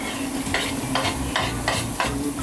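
Crushed garlic and vegetables in oil in a saucepan give off a steady close sizzle, broken by about five rhythmic scraping stirs, with no talk.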